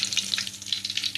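Bay leaves and cinnamon sizzle in hot oil for a dal tadka, a close, bright crackling fry with small pops in quick, uneven bursts over a brief moment.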